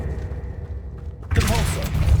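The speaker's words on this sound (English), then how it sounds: "Compulso. Incendio!" The Incendio fire spell is cast in Hogwarts Legacy: a low rumbling bed gives way to a sudden loud, roaring burst of fiery noise that fills the rest of the moment.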